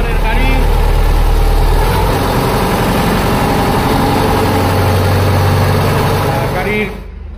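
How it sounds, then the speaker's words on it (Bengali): A second-hand tractor engine idles just after starting at a used tractor showroom in Cooch Behar, a loud, close, rhythmic chugging that holds steady before dropping off near the end, with speech mixed in. "ট্রাক্টরটা স্টার্ট হয়ে গেছে, ইঞ্জিনের সাউন্ডটা শুনে নিন।"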